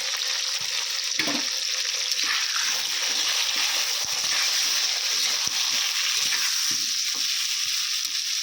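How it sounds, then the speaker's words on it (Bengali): Papaya pieces fry with salt and turmeric in hot oil, a loud, continuous sizzle with spattering and occasional stirring knocks close by. "আমি কিন্তু খুব ভালো করে একবারে লাল লাল করে ভেজে নেবো পেঁপেগুলোকেও"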